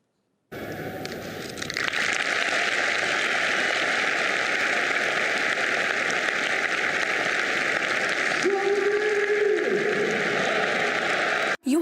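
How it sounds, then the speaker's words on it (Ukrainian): Football stadium crowd applauding in a standing ovation for a wounded veteran, a dense, loud, continuous wash of clapping and cheering that holds steady for about eleven seconds with no talk. "Трибуни аплодували стоячи з шаленою підтримкою футбольних фанів"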